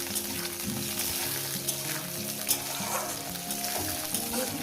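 Amla, Indian gooseberries, fry in a pan over a medium gas flame, a steady close sizzle with occasional stirring knocks and a faint background hum.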